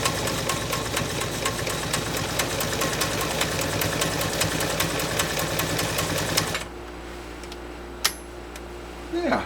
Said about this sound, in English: we'll go ahead and buzz down this vegetable tan leather, single layer, probably about 3 ounces, with a good old-fashioned zigzag